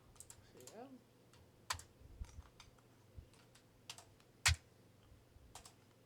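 Typing on a computer keyboard while editing text in Vim, with scattered key clicks and a few sharper taps spread unevenly over several seconds, fairly quiet and close.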